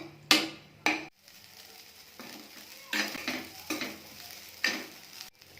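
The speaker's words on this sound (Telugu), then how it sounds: "సగ్గుబియ్యం, గోధుమ రవ్వ దోరగా ఫ్రై చేసుకోవాలి." Sago and wheat rava being fried in ghee in a pan, heard as a handful of sharp utensil scrapes and clinks against the pan over a soft sizzle, close up and without speech.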